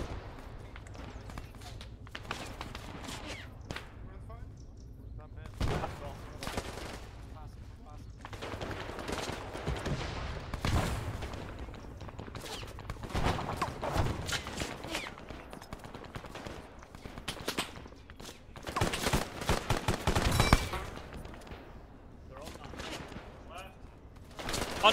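Bursts of World War II video game gunfire crackle through a D-Day battle, with scattered single shots and rapid rattling volleys at moderate distance, under and between voices calling out orders.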